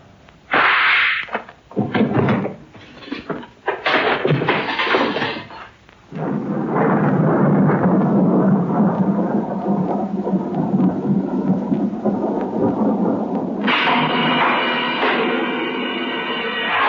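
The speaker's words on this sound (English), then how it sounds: "And suddenly, there was a sound of thunder." A thunder sound effect in a radio drama of Ray Bradbury's A Sound of Thunder: loud sharp cracks and claps, then a long rolling rumble that fades, ending on a bright swelling tone.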